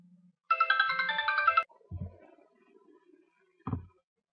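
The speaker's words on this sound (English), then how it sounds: "Sorry about that, got a phone call." An incoming-call ringtone plays a bright, steady melodic tone for about a second, then stops, followed by a couple of low thumps as the phone is handled in a quiet room.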